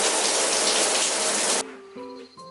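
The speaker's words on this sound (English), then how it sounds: "And now it's shower time." A shower runs in a steady loud gush of water for about a second and a half, then cuts off abruptly, leaving a few faint drips and bathroom clinks.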